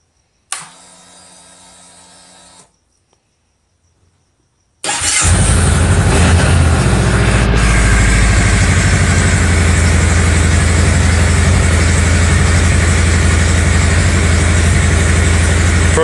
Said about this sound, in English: I'm going to fire up the engine here real quick.